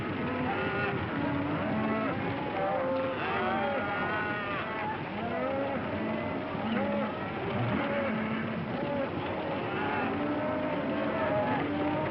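A herd of cattle moos repeatedly, the drawn-out calls overlapping near and far against a steady background rumble, with some talk mixed in.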